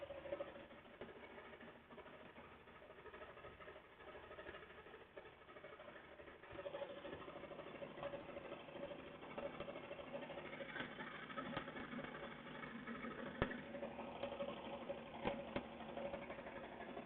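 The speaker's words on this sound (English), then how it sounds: "We're just stitching now, watching it run." An embroidery machine stitches an in-the-hoop plush stuffie, giving a steady mid-pitched mechanical whir with a faint rhythmic needle patter that runs continuously at moderate loudness, heard close and alone.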